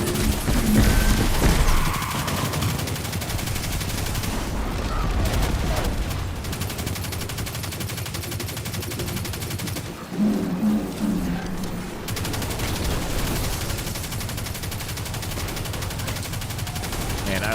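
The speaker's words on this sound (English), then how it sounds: "Man, I love the wrist gunner. It's such a good gun." Rapid automatic gunfire from the Wrist Gunner in the video game Destiny 2, loud and nearly continuous bursts with brief pauses, layered with other game effects and a voice talking over it.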